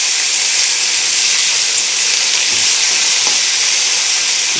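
Vegetables stir-fry in hot mustard oil, a loud continuous close sizzle and hiss with occasional faint scrapes of stirring.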